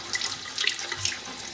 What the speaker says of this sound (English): you want to wash your peaches, kind of take out some of the fuzzy stuff